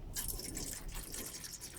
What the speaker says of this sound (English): Get some water in the pot here.